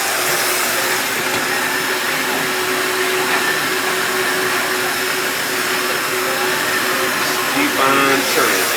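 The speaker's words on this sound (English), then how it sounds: "hit it with the heat gun, let it warm up a little bit" Heat gun blowing on plastic while building a swaying zombie prop, a loud steady whirring roar of hot air throughout, with a brief rattle near the end.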